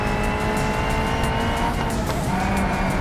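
A race car in the BeamNG driving game on a long race track, engine droning steadily at high revs with brief tire squeal, loud and continuous with no talk.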